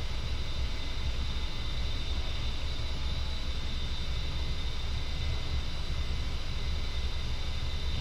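An A-10C jet in DCS rolling for takeoff, a steady loud engine roar with hissing broadband noise and a faint high whine, constant throughout with no voices.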